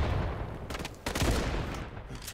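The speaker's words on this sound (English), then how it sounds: "all the gunshot noises need to be changed sooner rather than later" Gunfire in the Battalion 1944 video game, a dense burst of loud shots fired in quick succession, broken by a short gap before another run of heavy shots.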